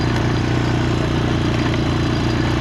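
Up close, a four-wheeler engine runs at a steady, loud idle with an even low rumble and clatter and no break.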